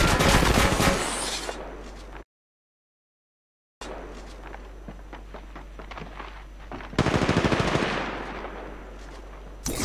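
Rapid automatic gunfire from the mobile game Apex Legends Mobile rattles in dense, loud bursts, broken by a stretch of total silence and then resuming with steadier shooting.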